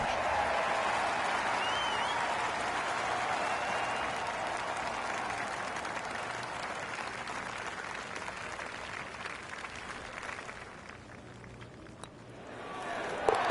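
A golf tournament crowd at a PGA Tour event roars and applauds after a putt, a loud sustained mass of clapping and cheering that slowly fades over several seconds.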